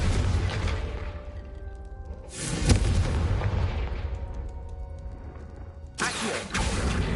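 Confringo fire spell explosions in Hogwarts Legacy on PS5, booming blasts with deep low rumble, one strong hit near the start of the second third and another toward the end, separated by decaying crackle and game ambience.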